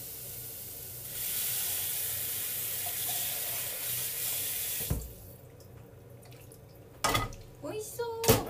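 Tap water gushing into a cooking pot as it fills, a loud steady splashing hiss that stops midway, followed by quieter handling clatter and a few brief knocks.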